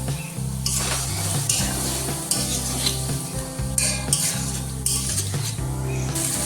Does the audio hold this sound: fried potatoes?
yes